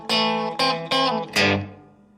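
Guitar plays the closing part of a riff on a clean tone, four bright strummed chord stabs in quick succession, the last ringing out and fading, close and moderately loud.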